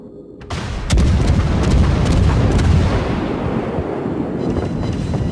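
Naval guns fire in the World of Warships game from the heavy cruiser Takao: a sudden loud boom, then a long heavy rumble that slowly fades.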